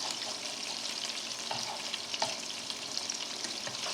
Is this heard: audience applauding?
no